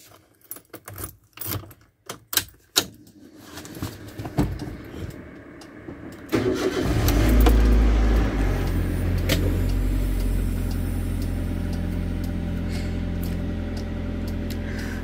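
A car's key jangles and turns in the ignition, then the engine starts and settles into a steady idle after battery care on a rarely used car, the running engine holding loud and close to the end.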